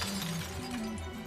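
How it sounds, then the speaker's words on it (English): Glass from a bucket thrown against a golf cart shatters in a short, loud, dense crash, played back in slow motion so it sounds stretched and smeared, with a low droning undertone throughout. "we all love the sound of a bucket of glass being thrown against a golf cart"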